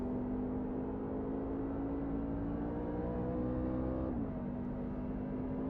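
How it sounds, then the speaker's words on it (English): Race car engine at the Pro Racing League round in New Hampshire, heard from inside the cockpit during laps: a steady, loud, droning motor with a sustained tone, dipping briefly as the driver shifts or lifts near the end. "Hear the engine."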